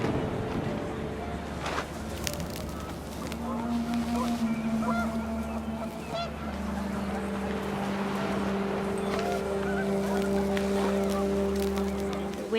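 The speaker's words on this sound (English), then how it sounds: "The wind picked up, and panicked geese appeared and quickly went." In the video game What Remains of Edith Finch, gusting wind blows beneath a string of drawn-out goose honks that rise and overlap as the panicked flock passes.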